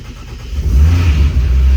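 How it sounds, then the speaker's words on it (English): A drag-prepped car running a Haltech engine management system, with a tired battery, cranks and catches. Its engine then revs in a loud, close, steady low rumble that builds after the first moment. "we'll just make sure the car still starts"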